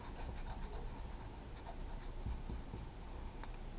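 A pencil scratches across paper as lines are drawn, producing soft, close strokes with a few sharper scrapes over a quiet room.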